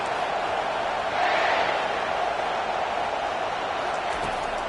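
Stadium crowd at a football game: a steady, loud roar of massed voices that swells slightly and then holds, with no distinct individual words.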